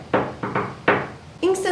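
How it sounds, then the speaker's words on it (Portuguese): A door knock in an animated Frozen 2 scene, three distinct knocks in a steady rhythm, close and moderately loud, followed by a brief musical tone. "a Anna vai atrás dela e ela bate na porta assim"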